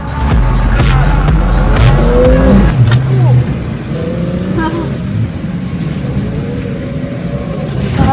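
Everyday car, a Lexus IS200 or Nissan 350Z, drifting on a skid pan with clutch kicks, loud engine roar and long wavering tire squeals, close up, easing to a rougher rumble later.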